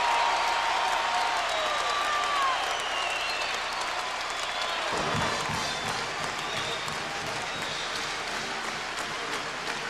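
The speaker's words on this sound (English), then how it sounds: "That brought the crowd to its feet," A basketball arena crowd roars and applauds after a three-pointer, a loud continuous wash of cheering and clapping with a brief whistle, holding steady throughout.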